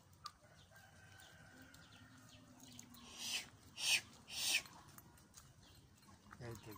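Chickens and ducks in a poultry yard make soft, distant clucks and calls, with a few louder squawking bursts near the middle over quiet rural background.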